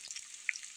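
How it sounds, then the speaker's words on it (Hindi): Chopped onion and whole dried red chilies fry in hot oil for a tadka over chana and white urad dal. The close, steady sizzle is dotted with small sharp pops. "तड़का लगाने के लिए ये देखिए हमने प्याज काट ली है थोड़ी सी, शामिल कर दो साबुत लाल मिर्च"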